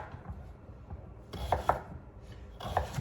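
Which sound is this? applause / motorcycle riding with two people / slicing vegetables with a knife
slicing vegetables with a knife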